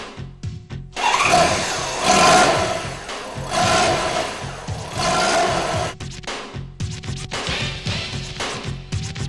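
A Honda Goldwing GL1500 motorcycle engine cranks and starts, then runs with a loud, steady mechanical hum that swells and dips through several revs, close by, with a brief cut partway through.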